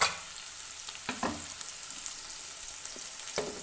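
Crushed ginger and garlic frying in a pan give a soft, steady sizzle, broken by a few light scrapes and clicks as a spoon stirs. No voice is heard.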